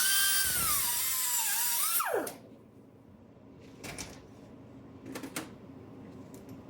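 A high-pitched power tool cuts off a through bolt on a GM 3.0L or 3.6L starter, whining loudly with a shifting pitch for two seconds before spinning down, followed by quiet clinks and handling noises.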